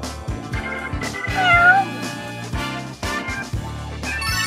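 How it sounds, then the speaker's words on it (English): A cat meows repeatedly over a loud, busy music bed with a steady beat and melodic tones, the meows mixed in rather than standing alone. "Meow."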